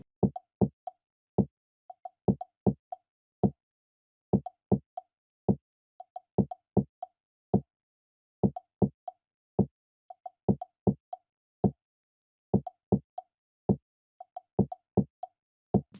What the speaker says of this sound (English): this is actually made up of an Amapiano djembe sound, and then coupled with a wood block